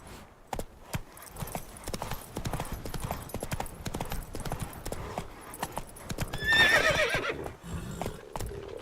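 Horse hooves clip-clopping in a steady rapid gallop in The Witcher 3, close and continuous, with a brief whinny near the end and no talk.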